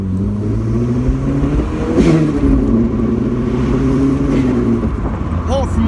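A warmed-up turbocharged Mazda MX5 with an exhaust leak revs up near by, its engine note rising in pitch and falling back in repeated swells, with brief talk over it.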